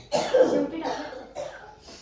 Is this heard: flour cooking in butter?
no